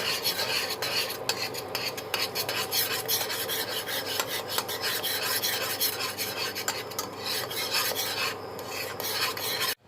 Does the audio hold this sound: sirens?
no